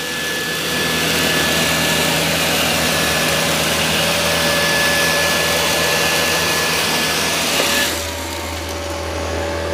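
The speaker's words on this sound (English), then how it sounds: "when it senses I got a bunch of dirt, it ramps the suction up automatically" A Dyson 360 Vis Nav robot vacuum runs with a loud, steady motor whine and airflow rush, then the sound drops sharply to a lower, quieter hum near the end, with no voices.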